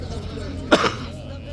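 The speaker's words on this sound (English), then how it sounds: "Don't make me laugh, otherwise I'm going to cough." A single short, sharp cough bursts out briefly over a low background murmur.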